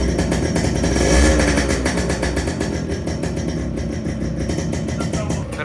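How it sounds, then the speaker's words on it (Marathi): Freshly restored Yamaha RX100 two-stroke motorcycle engine running steadily, a close, loud, even idle with a fast regular beat and a slight swell near the start, with no voices. "इंजिनचा आवाज बघू शकता गाडीचा."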